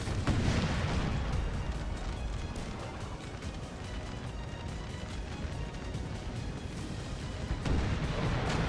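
Artillery fire in a Napoleon Total War battle, a dense and continuous roll of booming cannon shots and crackling musketry, loud and sustained throughout, with no talking.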